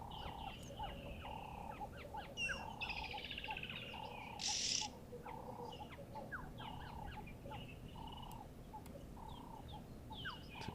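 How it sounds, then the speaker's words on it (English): Early morning bird chorus in the African bush, with many overlapping chirps, repeated calls and a brief shrill burst, distant and layered over a soft steady background. "Always awesome to hear these early morning bird choruses"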